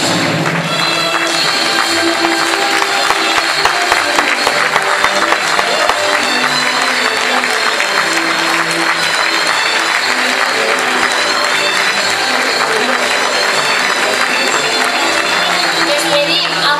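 Sustained, loud applause from a crowd at a Valencian falla exaltation ceremony, filling the hall for the whole stretch, with a few voices and shouts mixed in beneath the clapping.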